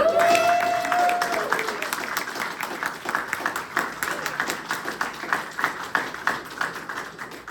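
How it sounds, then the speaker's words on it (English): An audience applauds Kate and David at a Young Republican legislative panel, a steady patter of clapping that follows a brief opening whistle or tone and tapers gradually toward the end. "Let's give a big round of applause for Kate and David."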